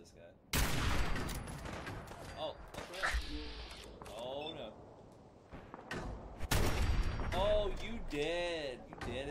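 Gunfire in Fallout 4, loud sharp shots in bursts, a big blast at the start and another volley later, with a voice talking over the action between shots.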